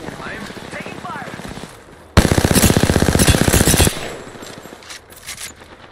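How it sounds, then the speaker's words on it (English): Rapid automatic gunfire in the Apex Legends video game, a loud close burst of nearly two seconds with dense evenly spaced shots, and quieter distant shooting and talking before and after. "I'm taking fire."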